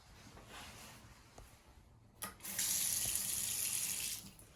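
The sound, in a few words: water running fast from bathroom tap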